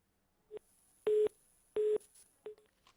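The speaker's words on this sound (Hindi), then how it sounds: "चलिए फोन डिस्कनेक्ट हो गया" Electronic telephone disconnect tones: two short beeps flanking two longer steady tones, evenly spaced, clear and alone on a quiet line.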